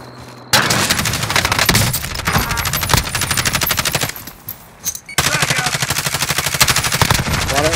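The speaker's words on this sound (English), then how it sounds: "Shots!" Automatic gunfire in the video game Call of Duty: Modern Warfare: loud, dense bursts of rapid shots, a brief lull midway, then another sustained stretch of heavy firing.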